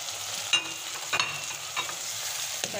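Minced meat fries in a pan with garlic ginger paste, a steady bright sizzle broken by a few close spoon scrapes and clinks as it is stirred.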